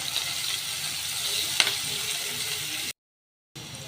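Onion, green chili and garlic frying in hot oil, a steady broad sizzle throughout with one brief clatter midway and a short silent gap near the end.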